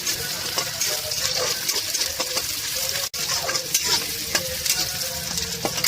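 Onion and garlic fry in a hot pan while being stirred, a steady bright sizzle broken by scraping strokes of a spoon against the pan at a close, even level with no voices.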